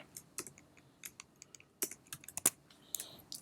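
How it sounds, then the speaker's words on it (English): Rapid, irregular clicking of keys on a computer keyboard while entering code, close and clear, with uneven bursts of keystrokes and short pauses, no talking. "here I'm typing up multi-line comment"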